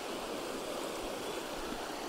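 A mountain stream rushes beneath a bridge in the forest, a steady broadband wash of flowing water with no break, heard close and fairly loud on its own.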